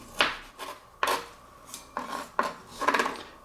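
Fresh ginger scraped across a kitchen grater in quick, uneven rasping strokes, about six close, distinct swipes with short pauses between them.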